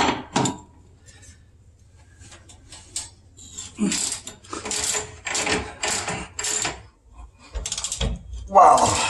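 Ratcheting wrench loosening the bolts on a new leaf spring of a truck or Jeep, heard as several bursts of close, clicking ratchet strokes separated by brief pauses.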